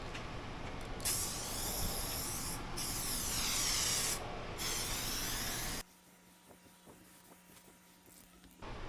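An aerosol can sprays primer onto a 2017 VW Tiguan, a loud continuous hiss in several long bursts with brief gaps, close by, then stopping into quiet room tone with faint clicks.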